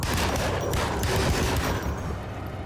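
Rapid gunfire crackles in a boss fight in the video game Alone in the Dark, a dense loud burst of shots that fades slightly toward the end.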